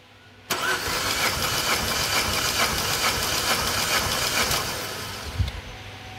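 A rebuilt A20NFT car engine cranks on the starter during a compression test: a loud, steady churning crank that starts abruptly and runs about four seconds, then fades out with a brief hiss near the end, with no talk.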